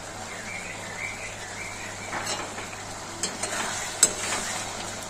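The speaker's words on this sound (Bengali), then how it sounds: "পরিমাণ মতন জল দিয়ে দিয়েছি আলুটা সেদ্ধ হওয়ার জন্য" Potatoes simmering in water in a pan for Bengali aloo posto, giving a steady soft bubbling hiss with a few light clinks of a utensil, no voices.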